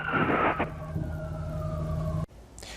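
An ambulance siren wails loud and near, its tone gliding downward before it cuts off abruptly near the end.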